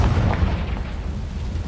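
The Confringo spell explodes in the video game Hogwarts Legacy as a loud, close, rumbling boom that fades over about a second and a half.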